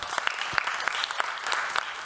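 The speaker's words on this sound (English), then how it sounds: "Round of applause, please." An audience claps at a breakfast event, a fairly quiet burst of applause with distinct individual claps standing out over a steady patter.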